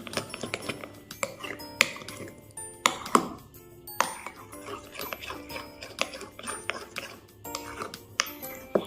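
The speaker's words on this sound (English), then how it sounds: "now you need to mix the glue and foam together so that everything mixes really well and activates nicely" Glue and shaving foam being stirred together in a bowl for slime, with irregular clicks and scrapes of the utensil against the bowl, close and fairly quiet, some sharper knocks between softer squelching strokes.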